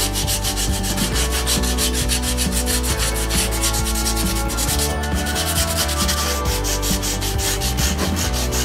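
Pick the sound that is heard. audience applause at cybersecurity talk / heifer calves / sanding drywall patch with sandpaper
sanding drywall patch with sandpaper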